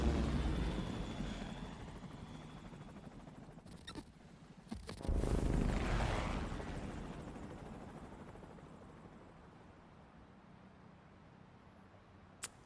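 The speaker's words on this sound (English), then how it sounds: "Ooh, are we in a helicopter?" Helicopter in the Persona 5: The Phantom X video game, a steady low rotor drone that swells midway and then slowly fades, with no talking.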